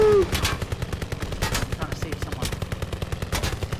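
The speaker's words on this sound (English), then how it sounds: "Oh, no, someone's shooting." Sustained machine-gun fire rattles on the Operation Husky war map in Call of Duty WWII, rapid and steady throughout, with a brief voice at the start.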